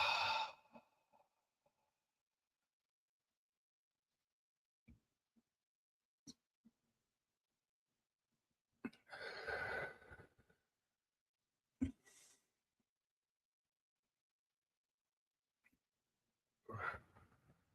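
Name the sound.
deep breaths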